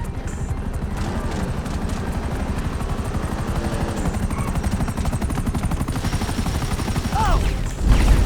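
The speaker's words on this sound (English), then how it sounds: "Great! Another chopper!" Helicopter in Grand Theft Auto V, a steady loud rotor thump with rapid rhythmic chopping running throughout, with bursts of gunfire and other game effects mixed in near the end.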